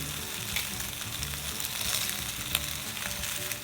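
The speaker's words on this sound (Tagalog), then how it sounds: "fry the meat. This process is called browning." Chicken adobo meat sizzles steadily as it browns in a separate pan, a dense, even frying hiss with faint crackles, heard alone at close range.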